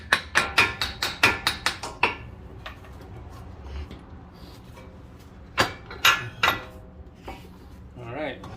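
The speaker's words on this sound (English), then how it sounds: "we're gonna hammer this axle out" Sharp metallic blows ring out as a car CV axle is hammered loose: a rapid run of about eight close, loud strikes, then a quiet stretch, then a few more clanging hits.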